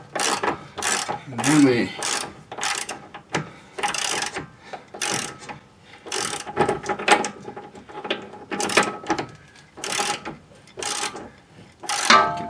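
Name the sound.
wrench tightening toe link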